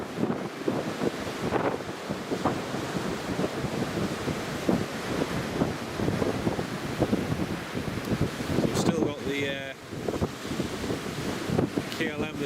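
Strong Storm Otto wind buffeting a microphone at Newcastle International Airport, a constant loud roaring rush throughout with gusty fluctuations, a faint voice briefly audible underneath.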